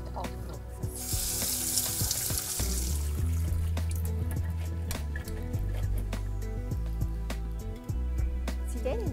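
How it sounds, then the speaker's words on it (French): Cold tap water runs over chickpeas being rinsed in a sink, a steady close splashing flow with scattered knocks and clinks throughout. "Rincez les pois chiches à l'eau froide et bien égoutter."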